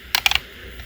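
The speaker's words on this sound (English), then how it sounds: "even just moving around and hearing that click to the left or to the right" A few quick plastic clicks close by from a GameCube controller stick, three or four sharp taps in under half a second against quiet.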